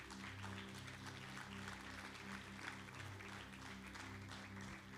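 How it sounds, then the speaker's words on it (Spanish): A church congregation applauds during a sermon, a broad steady wash of clapping held at an even level throughout, with a low sustained organ or keyboard drone beneath. "dale un aplauso al Señor."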